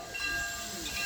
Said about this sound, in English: But that'll make the train go again.